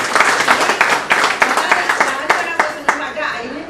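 Audience applause at a talk by a retired schoolteacher, a burst of clapping with sharp rhythmic hand claps, fairly close and loud, fading slightly toward the end.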